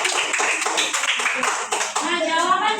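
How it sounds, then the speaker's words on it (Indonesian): A class of children clapping their hands together in a classroom, a burst of quick, overlapping claps, with young voices mixed in. "tepuk tangan."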